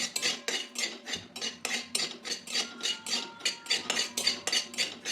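Poppy seeds dry-roast in a pan over a low flame without ghee, stirred with rhythmic, close scraping strokes about twice a second, each a soft metallic scrape against the pan.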